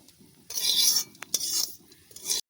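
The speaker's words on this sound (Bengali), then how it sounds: "জিরা ধুনা ভাজি নিচ্ছি জিরা ধুইনা গরম মশলা" Cumin and coriander seeds are dry-roasted with garam masala in a pan, giving scraping, rattling stirring bursts with a few sharp clinks of a utensil between quieter pauses.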